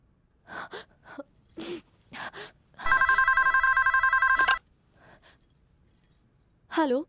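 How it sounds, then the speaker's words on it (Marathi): An old-style telephone bell rings in one steady burst of rapid strikes lasting under two seconds, loud and close. Brief breaths and short vocal sounds come before it, and a voice follows afterward. "जरा फोन करून बघू."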